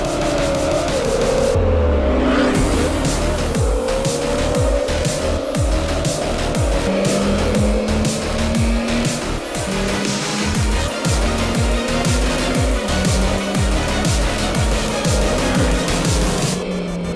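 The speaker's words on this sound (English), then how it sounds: "introducing you our pure fun-oriented product, the Ninebot Go-Kart Pro" A Ninebot Go-Kart Pro electric go-kart racing hard, with repeated loud tire squeals and skids over a whining motor, continuous and close throughout.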